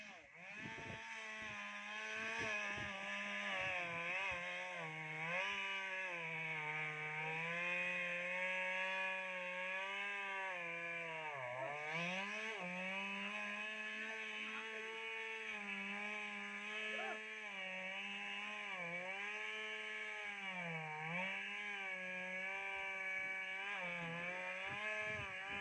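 A chainsaw cuts through a fallen tree trunk, its engine whining steadily and loud for a long stretch, pitch dipping repeatedly as the chain bites into the wood, with no voices.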